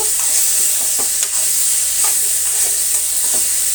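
Chopped raw tomatoes cooking in a pan for chutney are stirred, with a constant loud sizzle and a few soft scraping stirs of a spoon against the pan over it.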